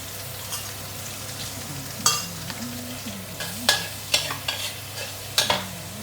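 Onion fries with sambal in a wok, a constant close sizzle with scattered metallic clinks and scrapes of a spatula stirring.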